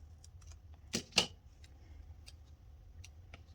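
Scissors snipping paper while laying out a Happy Planner monthly page; two quick, crisp cuts close together, fairly quiet, with faint light ticks around them and no talk.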